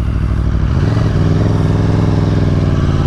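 A 2018 Aprilia Tuono motorcycle engine rumbling loud and close, a continuous throaty idle that rises into a steadier, higher growl as revs build partway through.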